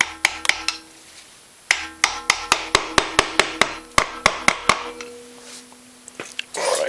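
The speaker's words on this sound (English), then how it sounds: "Just take your hammer and screwdriver and knock those off." A hammer drives a screwdriver against the pry tabs on a Honda Foreman 500 motor cover, a close run of sharp metallic strikes, first a few, then a fast burst of about a dozen, trailing into scraping.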